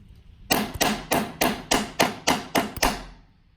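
A hammer chips slag off fresh welds on rear subframe brackets for a Volvo 850 T-5R AWD swap, nine sharp metallic strikes in a quick, even rhythm, close and loud with no talking.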